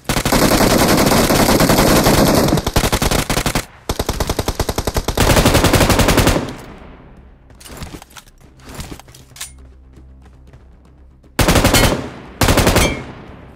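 Automatic gunfire in the battle royale game BGMI: long loud sustained bursts of rapid shots, then a quieter stretch of scattered single shots and small sounds, ending with two more short intense bursts.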